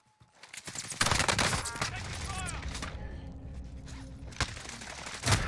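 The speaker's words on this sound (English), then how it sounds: "I'm getting shot from everywhere!" Rapid gunfire in Call of Duty Warzone, a burst of shots opening the stretch and scattered cracks later, mixed with game effects and whooshes, while a player talks over the action.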